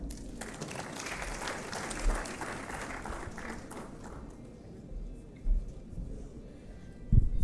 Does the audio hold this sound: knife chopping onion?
no